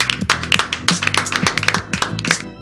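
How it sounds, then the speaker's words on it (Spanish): Studio audience applause greets an arriving guest, a short burst of brisk hand claps close by, irregular and lively, with a few sharper taps standing out. "nosotros disponemos de nuestras palmas para recibir con un fuerte aplauso a la compañera Paula Penaca"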